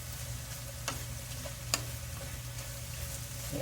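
Carrot burfi mixture frying in ghee, a low, steady sizzle and bubbling heard close up with a couple of faint utensil ticks and no talk.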